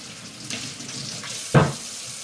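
Peeled potatoes rinsed under a running kitchen tap for a Piedmont-style potato salad: a steady low water stream, with a brief louder splash and clatter near the end.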